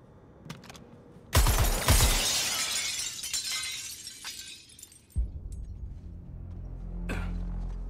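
Glass shatters loudly in the Suicide Squad: Kill the Justice League video game, a sudden bright crash with a second burst just after, then scattered tinkling debris fading out before a low rumble takes over.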